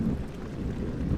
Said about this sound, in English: Sounds like rain, water, maybe the sea.